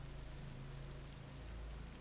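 Steady rain falls in a dense, even hiss with a low rumble underneath, constant and unbroken with no voices.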